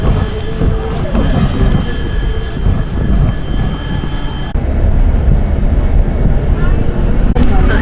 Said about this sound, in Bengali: নির্ধারিত সময় থেকে প্রায় এক ঘন্টার ওপরে লেট করে এই নিউ বঙ্গাইগাঁও ডেমু ট্রেনটা ছাড়লো